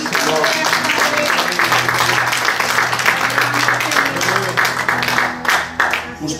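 A church congregation applauds during a sermon, loud sustained clapping mixed with crowd noise and some voices or music underneath, tapering slightly near the end.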